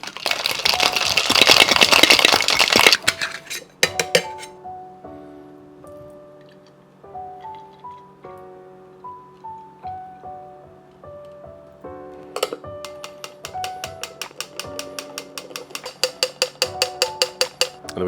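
Ice rattles hard inside a cocktail shaker during a wet shake for a classic Gin Fizz. There is a burst of noisy shaking at the start, then later a run of quick, regular clattering beats. Soft melodic music plays in between.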